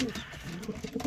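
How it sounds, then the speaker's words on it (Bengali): Domestic pigeon cooing aggressively in a home loft during pairing display, a few low, throaty coos rising and falling in short bursts at close range with no talk. "ফুল রেডি হয়ে আছে, প্রচুর গরম হেঁটে আছে পায়রাটা"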